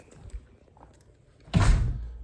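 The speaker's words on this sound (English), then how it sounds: "close the door" House door swung shut, a few faint shuffles and taps followed by a firm close with a loud thud near the end, heard alone without talk.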